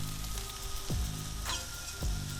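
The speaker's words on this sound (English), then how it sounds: "I'm gonna add the cauliflower now. Same idea, avocado oil and some salt" Cauliflower frying in avocado oil and butter in a pan makes a low, steady sizzle, broken by a few brief sliding scrapes and clinks of a utensil, with no one speaking.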